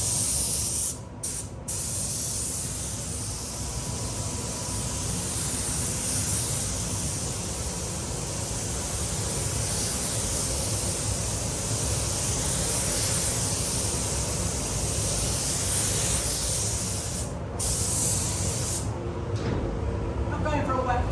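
A spray gun at 1.2 bar lays metallic paint onto a BMW in a paint shop, a steady loud hiss that runs nearly unbroken with a few short pauses between passes.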